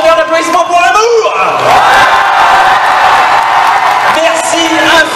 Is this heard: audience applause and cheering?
yes